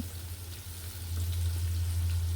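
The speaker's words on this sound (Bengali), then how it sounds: "এখন এই পেঁয়াজগুলোকে খুব ভালোভাবে তেলের মধ্যে আমি ভেজে নিব" Chopped onions frying in soybean oil in a pan, a steady, close sizzle and crackle that grows slightly louder partway through, with a low hum underneath and no talk.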